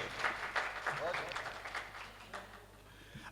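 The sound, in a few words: audience applause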